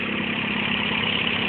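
A Toyota AE86 engine idles steadily and close by, a smooth continuous hum with no revving or talk over it.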